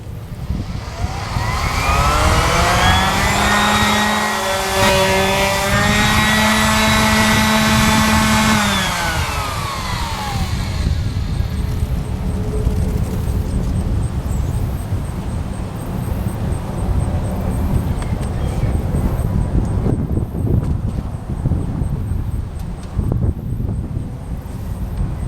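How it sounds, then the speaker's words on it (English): A Milwaukee variable-speed 5-inch orbital sander whines loudly up close, its motor pitch climbing then dropping as speed changes, before settling into a rough, steady grinding buzz against the surface. "Correction, I have my variable speed Milwaukee 5-inch orbital sander."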